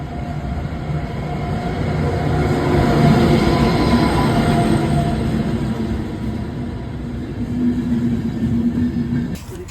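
Train rolling through a cold station on a route toward Hamburg, Germany, with a loud, sustained rumble of wheels and carriages that swells and fades before cutting off abruptly.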